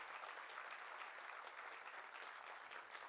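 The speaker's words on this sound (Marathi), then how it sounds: "तर एकदा जोरदार टाळ्या वगैरे या सगळ्या मराठा योद्ध्यांसाठी." Audience applause in an auditorium hall in Ahmednagar, a dense, steady wash of clapping that runs throughout without a break, heard with no talking over it.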